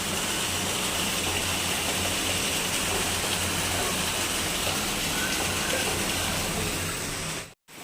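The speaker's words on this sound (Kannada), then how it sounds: "ಹಿಂದೆ ನೋಡಿ ಎಷ್ಟು ಜೋರಾಗಿ ಹುಯ್ತಾ ಇದೆ ಮಳೆ" Heavy monsoon rain pours down while water gushes off a neighbour's terrace, a dense, loud, unbroken roar of falling water that cuts out briefly near the end.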